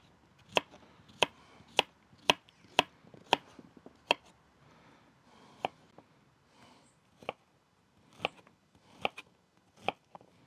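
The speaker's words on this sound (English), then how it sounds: "while we're chopping the onion, I might as well chop the squash as well" A knife chops squash sharply against a cutting board in a quick series of strikes, then slower, more spaced cuts follow.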